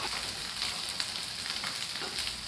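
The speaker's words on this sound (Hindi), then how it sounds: "भिंडियाँ हमारी बस फ्राई हो गई हैं" Okra sizzles and crackles in a frying pan, a bright, continuous hiss dotted with quick pops, heard up close and alone without any speech.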